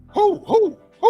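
A man imitates an owl with three quick hooting calls, each a short rising-then-falling "who" sound, close and clear against a quiet background.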